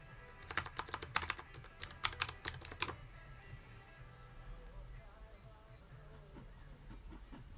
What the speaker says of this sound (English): Cherry keys are really scratchy.